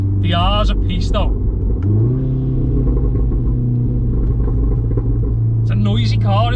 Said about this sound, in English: It's a noisy car in sport, to be fair.